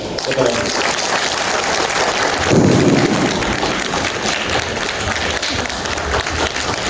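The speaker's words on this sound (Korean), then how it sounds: "큰 박수 해주십시오." Church congregation applauding newly baptized Laotian young people as they receive flowers, dense sustained clapping throughout with a louder swell midway, a voice talking over it.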